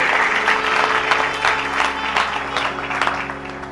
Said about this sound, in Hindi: अरे तालियां नहीं बजाओगे?